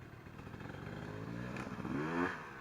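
A dirt bike engine on a trail revs steadily, its pitch rising and climbing toward the end, moderately close and continuous with no talk over it.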